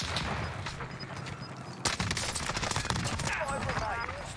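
Gunfire in the Call of Duty Warzone battle royale game, quick bursts of shots cracking in a busy, dense mix, growing sharper after a sudden loud onset, with a voice talking over it.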